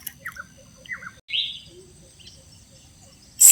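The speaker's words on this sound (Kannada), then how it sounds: "ಕೇಳಿ ಹಕ್ಕಿಗಳು ಚಿಲಿಪಿಲಿ" At Gudavi Bird Sanctuary in Soraba, Shivamogga, a few birds give brief chirps and one clear whistled call against near silence, then a louder burst of noise at the end.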